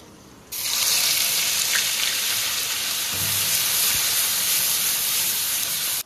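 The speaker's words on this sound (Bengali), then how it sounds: "এবারে দিয়ে দেবো পেঁয়াজ বাটা" Onion paste drops into hot oil and bursts into a loud, dense sizzle that holds steady for several seconds, then cuts off abruptly, with a soft thud partway through.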